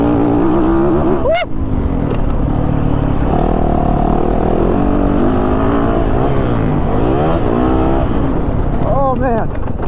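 A 2022 Yamaha YZ450FX off-road motorcycle ridden hard makes a loud, close engine roar that rises and falls through repeated revs and gear changes, with a rider's voice heard over it.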